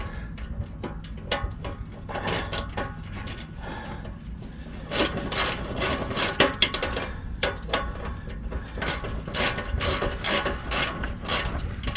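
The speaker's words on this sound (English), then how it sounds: "I should be turning the nut end where the wrench is and tightening the other end" A wrench ratchets on a nut under a 2008 Impala while the muffler is being changed, giving quick bursts of close mechanical clicking with short pauses in between and no talking.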